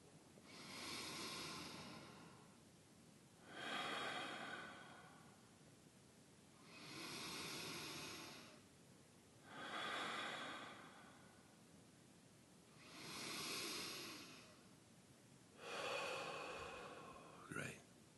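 Forceful rhythmic breathing during a guided meditation, six long, loud hissing breaths evenly spaced and close to the microphone, with no talking between them.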